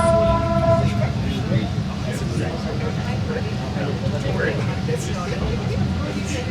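A Toronto Line 6 light-rail train stands at its terminal station with a steady low rumble and hum, while a clear automated announcement sounds over the top.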